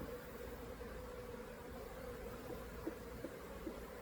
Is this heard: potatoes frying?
no